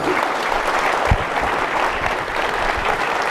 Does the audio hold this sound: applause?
yes